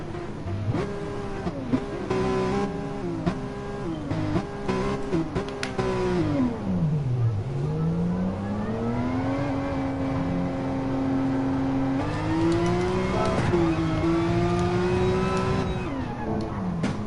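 Porsche Cup race cars lapping the Red Bull Ring in qualifying, a loud sustained engine howl that rises and falls through gearchanges, dipping on a downshift and climbing again, with no talk over it.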